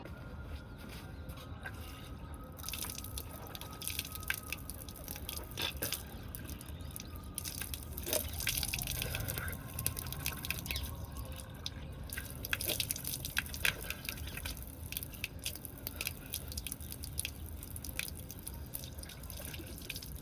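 Tap water splashes and drips in a sink while someone washes their face before heading out to work, with irregular close splashes and trickles over a running stream for about twenty seconds, no talking.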